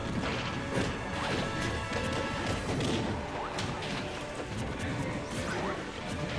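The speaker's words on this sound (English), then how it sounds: "It looks like Castro as a Bowser Jr. is just spamming these fully charged forward smashes" Bowser Jr. in a Super Smash Bros doubles match lands repeated fully charged forward smashes, heard as heavy crashing hits and whooshes in a dense, busy game mix, with faint voices underneath.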